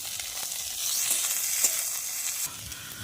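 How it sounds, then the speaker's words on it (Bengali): Chopped onion added to potatoes frying in oil at a small rooftop picnic: a close, loud, continuous sizzle with quick stirring scrapes, with no talking. "তারপরে দেওয়া হলো পেঁয়াজ কুচি,"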